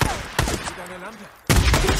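Gunfire in the video game Days Gone breaks out in loud close bursts at the start and again near the end, separated by a quieter stretch with faint voices in between.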